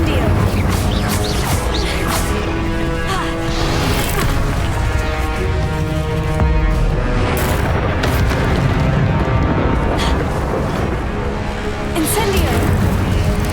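Incendio fire spells are cast again and again during a loud Hogwarts Legacy battle, with repeated whooshing bursts and booms over constant combat noise and voices shouting.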